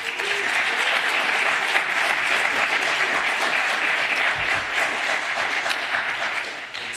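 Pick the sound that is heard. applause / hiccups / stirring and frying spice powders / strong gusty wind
applause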